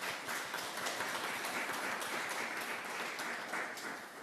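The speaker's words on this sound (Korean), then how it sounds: "우리 환송의 박수 한번 드리겠습니다." Church congregation at a Sunday service giving farewell applause, a steady patter of many hands clapping at moderate distance, fading slightly at the end.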